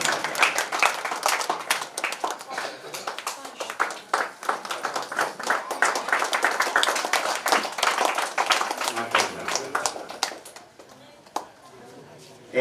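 Audience clapping at a mushaira poetry gathering in Ratnagiri, a loud, dense burst of hand claps from a crowd that carries on for about ten seconds and then drops away abruptly into quiet.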